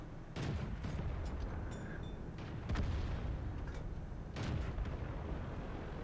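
Artillery fire in World of Tanks, heard as several heavy booming shots spread across the stretch, with a loud blast at the start and more impacts later over a rumbling battlefield background.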